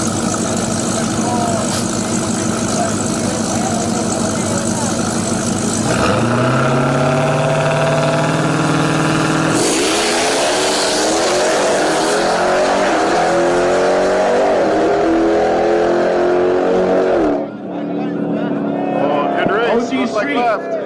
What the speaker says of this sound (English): The two Trackhawks made it to the all-wheel drive final, which we have here, so we can show that.